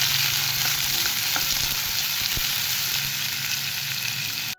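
Chopped onion and garlic frying in oil in a pan for a spiced cowpea curry, a loud, steady sizzle with faint stirring scrapes, close up and alone without talk.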